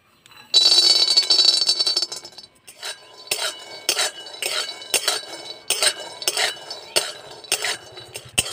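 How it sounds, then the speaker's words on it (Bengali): Peanuts are fried in a pan and stirred, a loud rattling sizzle at first, then a run of sharp, rhythmic scrapes and clinks of a spoon against the pan. "এইবারে আমি বাদামটা ভেজে নেব"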